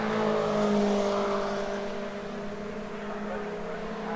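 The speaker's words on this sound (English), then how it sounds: "Max Park coming out of Nickelbrook for Kendrick in that MGOC 1800, and 6 and 77 having a really good tussle, Darby and McDermott." MGOC 1800 race cars from an MG Owners Club race at Oulton Park pass trackside, their engines a loud, sustained droning roar that fades slightly as they move away.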